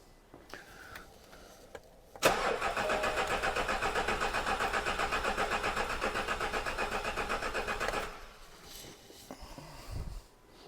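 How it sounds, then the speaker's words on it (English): A six-cylinder engine being checked for a low-compression cylinder cranks over for about six seconds, a loud, rapid, evenly pulsing churn that starts abruptly and stops, with quiet before and after. "I'm going to crank this engine again"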